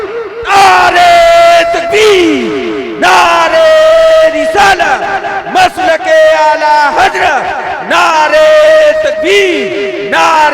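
A large crowd at a religious naat gathering loudly chants slogans in unison, answering a leader's calls in repeated bursts, with a tonal lead voice and dense group shouting throughout.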